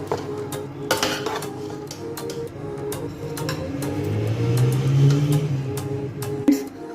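Chicken biryani served from a pot with metal utensils, scattered clinks and scrapes against the pot over a low background hum, with a sharper knock near the end and no talk.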